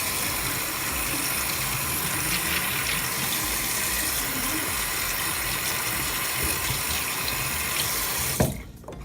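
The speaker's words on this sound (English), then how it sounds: "you just rub it like this against the sink instead of using your hand" Tap water runs steadily into a sink as a makeup brush is rubbed against the basin, the rushing stream continuous and close before it is abruptly shut off at the end.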